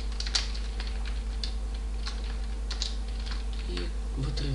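Fast, steady clicking of a computer keyboard while PHP code is typed, close up over a low electrical hum, with a faint voice near the end.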